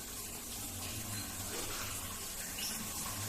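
A Toshiba instant electric water heater with a DC inverter pump running as water flows steadily through a newly fitted shower, a constant close hiss with no talking.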